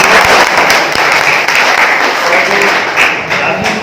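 Loud, sustained applause from a crowd at a university ceremony honouring a Bhojpuri poet in Arah, steady dense clapping filling the whole stretch without a break.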